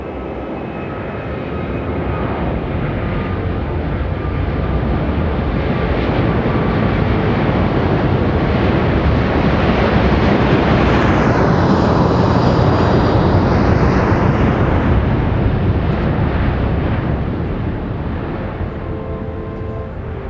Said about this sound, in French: Thierry Bourges et Gérard Desbois, voici l'Airbus 380.